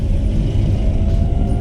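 A Renault Twizy electric car accelerates with a steady, close rumbling drive noise and a faint whine running through it, without pauses and with no talking.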